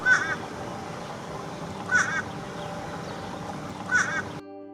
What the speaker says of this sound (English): and here's what the fish crow sounds like.